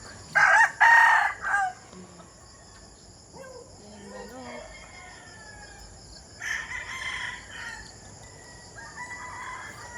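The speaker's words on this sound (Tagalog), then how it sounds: "Daming manok." A fighting rooster crows loudly up close outdoors, then quieter clucking and calls from other gamecocks follow over a steady chirping of insects.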